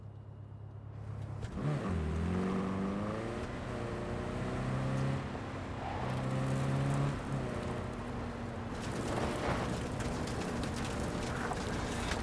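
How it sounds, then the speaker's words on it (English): A car engine in the Cyberpunk 2077 video game starts up and revs, rising and falling steadily in pitch over a constant mechanical hum, then blends into louder broadband noise near the end. "So as soon as you find Saul, I'll fire up the engine and we'll speed out of there"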